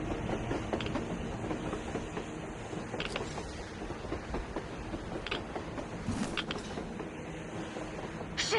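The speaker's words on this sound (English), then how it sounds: "A train! A damn train on the surface!" A train rolls along on the surface in the Metro Exodus video game, a continuous rumbling rattle with clickety-clack wheel noise and occasional metallic squeaks, heard alone.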